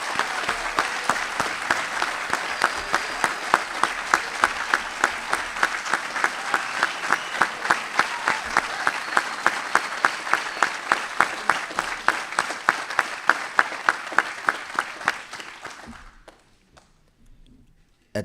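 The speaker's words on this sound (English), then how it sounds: "Please join me in a round of applause for our nation's newest second lieutenants." A long, steady round of applause at an Army ROTC commissioning ceremony honoring newly commissioned second lieutenants, dense crowd clapping with sharp individual claps standing out, continuing evenly for about fifteen seconds before tapering off to silence.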